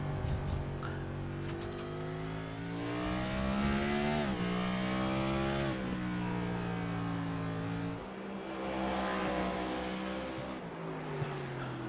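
A race car at Road America drops all the way down to first gear. Its engine blips and rises with each downshift, mixed with a close, loud onboard drone and a distinct break around eight seconds.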